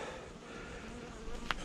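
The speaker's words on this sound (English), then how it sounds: "One of my bees just stung me." Buzzing of honeybees or similar insects, a steady low drone lasting throughout, moderately near, with a brief louder burst near the end; no speech.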